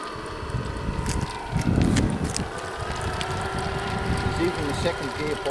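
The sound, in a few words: Caterpillar D11 bulldozer engine pulling trailer in second gear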